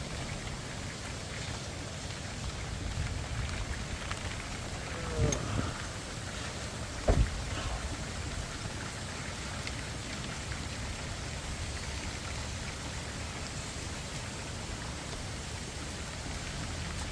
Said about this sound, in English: Phone out of the rain. It's getting pretty wet.